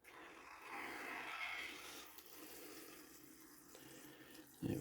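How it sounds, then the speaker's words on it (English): Water is poured into a spider enclosure, a soft rushing trickle lasting about two seconds before fading into quieter splashing, ending with a brief knock; no one speaks. "Add the water first, shall we?"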